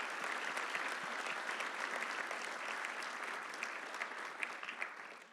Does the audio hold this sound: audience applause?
yes